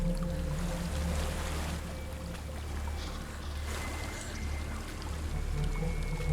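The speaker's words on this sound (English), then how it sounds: "There's a waterfall." A steady rush of falling water from a waterfall in the video game Hellblade: Senua's Sacrifice, a continuous broadband roar at moderate level with faint tonal background music beneath.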